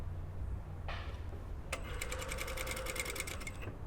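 Stitching a patch pocket, a sewing machine starts after a short soft whir and runs for about two seconds, a rapid even needle chatter, close and clear before stopping.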